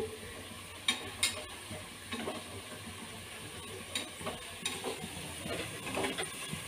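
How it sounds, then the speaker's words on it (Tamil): Onions frying in a pan for chicken biryani, stirred with scraping utensil strokes over a steady low sizzle, close up with a few sharper clinks, no talking. "பாருங்கள் நல்லா செவந்து வந்துட்டுருக்கு வெங்காயம்"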